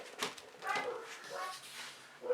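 Dogs bark at a household cat in the distance, a few quick muffled yips and barks spread across a short stretch, overlapping faint room noise.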